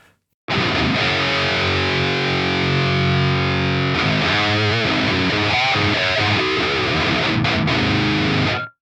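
A heavily distorted guitar through a budget Soldano amp sim plugin plays sustained, fuzzy chords, then shifts to choppy, gritty riffing, loud and saturated throughout.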